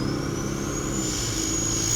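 A car engine breathes in through a Pipercross foam air filter, giving a steady close-range intake roar with a rising whine as revs climb, continuous and without talk.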